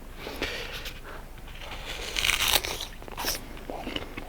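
Crisp crunching bites into a firm, dry-skinned apple fresh from the tree, a couple of loud snaps followed by quieter chewing, close up with no talking.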